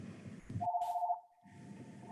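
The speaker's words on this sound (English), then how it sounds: "That's my landline." A landline telephone gives a single electronic ring tone, a steady tone held for about half a second and trailing off, between stretches of muffled background sound.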